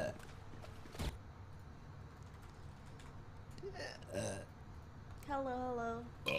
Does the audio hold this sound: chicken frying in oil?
no